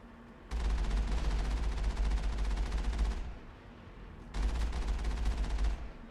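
Two long bursts of rapid automatic gunfire in the Mass Effect game, each lasting about three seconds with a short lull between, loud and steady with no talking.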